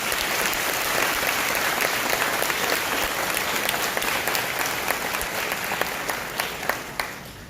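Steady, dense applause fills a room at a middle school National Junior Honor Society induction ceremony. The clapping is continuous and moderately loud from the audience, with a few sharper individual claps near the end.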